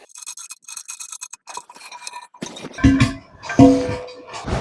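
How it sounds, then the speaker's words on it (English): Small metal washers and nuts being fitted and hand-tightened onto toilet tank bolts during a toilet installation: light clicks and scrapes, then a few louder knocks and metallic clinks close by, with no talking. "take a washer and a nut here. Washer goes up, push it down from inside the tank. Then just get these tightened down a little bit."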